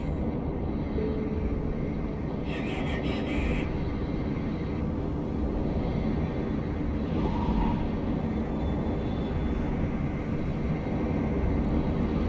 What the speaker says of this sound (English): Kick the afterburner on.